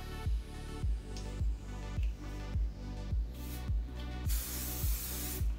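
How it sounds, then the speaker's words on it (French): Sebastian Shaper Zero Gravity hairspray is sprayed onto hair in about eight short, evenly spaced hissing bursts. The bursts are close and fairly faint, and the last one runs a little longer. "il faut mettre du spray net sur le haut de la rangée"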